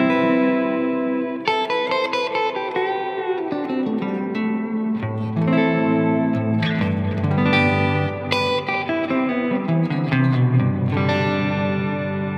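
Sustained bass chords swell with long delay echoes and lush wet stereo reverb from a pedalboard, layered notes washing into one another in a slow ambient texture.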